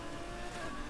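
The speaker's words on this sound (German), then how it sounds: "jetzt höre ich doch auch den Motor mal ein bisschen" A brief burst of a racing car engine in Need for Speed Heat on PS4, humming steadily at moderate volume with a synthetic, game-like tone.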